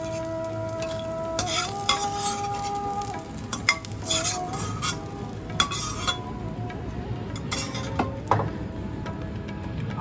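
Frying in mustard oil in a kadai crackles and sizzles steadily, punctuated by clinks of a utensil against the pan and bursts of stirring, close and moderately loud without any speech.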